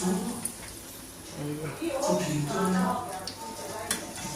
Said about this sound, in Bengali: এই যে কত বড় বড় সাইজের আলু পরোটা করছি